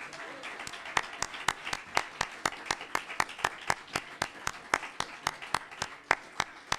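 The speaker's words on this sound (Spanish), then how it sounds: "Dale un aplauso, pues." Rhythmic clapping from a congregation during a church sermon, sharp evenly spaced claps in unison over a soft room background, with no voices.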